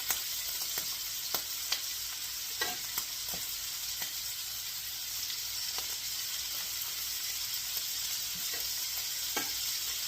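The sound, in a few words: seasoned meat frying in grease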